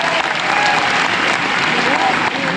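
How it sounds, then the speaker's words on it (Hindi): An audience at an Enagic 10th anniversary celebration event breaks into loud, dense applause, a steady wash of clapping sustained throughout with crowd noise mixed in. "एक बार जोरदार ताली आप अपने लिए।"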